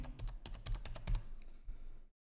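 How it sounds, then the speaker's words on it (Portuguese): Quick run of key presses on a computer keyboard: about a dozen crisp clicks over two seconds, close to the microphone and alone, ending in silence. "E aqui eu vou digitar mínimo."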